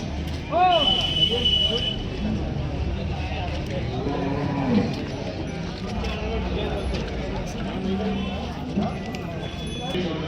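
Cows low at a busy cattle market in Chakan, India, a couple of clear moos near the start amid hoof clatter and people talking nearby.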